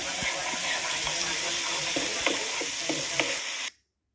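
Spices sizzle steadily in hot oil in a pan over low heat while being sautéed for an eggplant dish, with a broad hiss and occasional scraping stirs, then an abrupt cut to silence.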